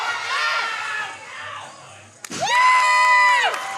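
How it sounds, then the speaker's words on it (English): Crowd at a powerlifting meet cheering and whooping loudly, with high excited shouts and screams swelling after a sharp knock, close and sustained. "Crowd's going wild."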